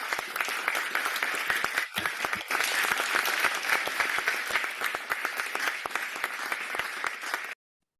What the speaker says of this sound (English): Let's welcome with a resounding warm of applause, past RI Director Guilherme Tumangan